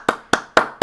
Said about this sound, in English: So, everybody, round of applause for Bryce.